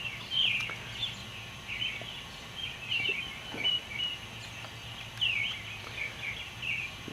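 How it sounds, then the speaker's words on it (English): Early morning wild birds sing outdoors, high thin chirps and warbles coming in repeated short phrases across the stretch, moderately near against a quiet background with no talking. "The early morning birds are out singing"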